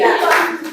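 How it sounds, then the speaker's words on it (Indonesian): Classroom students applauding together, a short burst of brisk, close hand clapping that fades quickly. "berikan tepuk tangan dulu buat semua"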